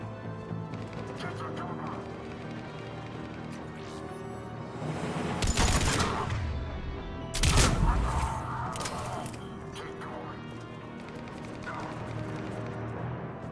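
Gunfire and combat blasts in Mass Effect 3 on Insanity difficulty, a busy mix of shots and impacts with a couple of loud bursts over steady background action, with speech partly heard.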